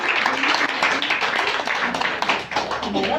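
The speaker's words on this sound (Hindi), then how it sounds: "मैम के लिए भरपूर तालियां हो जाएं" Audience applause at a women's empowerment closing ceremony, brisk clapping from a seated crowd with sharp individual claps standing out, fairly close and loud, with some voices mixed in.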